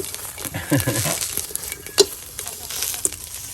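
Food sizzling in a pan as its cooking water boils off while steamed fish and Lao-style green chili dip are prepared, with steady frying crackle, scraping stirs and one sharp clink near the end.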